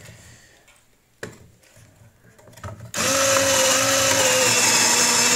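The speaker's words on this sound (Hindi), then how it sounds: "ये हमारे पास बहुत ही ज़बरदस्त तरीके से जो गाजरें हैं वो कद्दूकश हो गई हैं" After a few quiet clicks and handling knocks, an electric salad cutting machine grating carrots starts up with a loud, steady motor whine and grinding that continues to the end.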